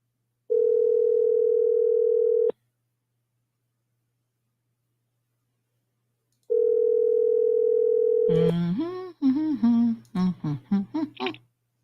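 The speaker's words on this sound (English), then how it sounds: "Let's place a little phone call" A telephone dial tone sounds while a call is being placed, two steady hums separated by silence, the second leading straight into ringing tones and then a person talking on the line.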